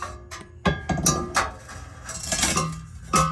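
Metal clanks and rattles as a cat-back exhaust pipe is lifted into place under a 2004 Nissan Sentra SE-R Spec V, with scattered knocks and scrapes at an irregular pace, close by.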